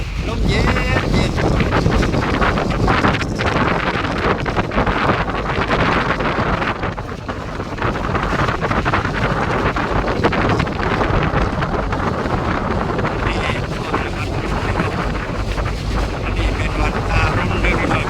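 Cool wind buffets the microphone on a river boat ride near the Grand Palace, a loud, continuous rushing roar with gusty surges and a low hum beneath it.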